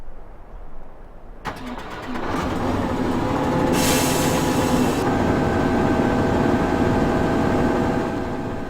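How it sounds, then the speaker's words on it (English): A large diesel tractor engine in a video game cranks and catches, then settles into a steady, loud idle rumble that continues to the end. "Let me get out of the tractor here and fire it up for you guys."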